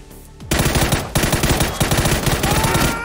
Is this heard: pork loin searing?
no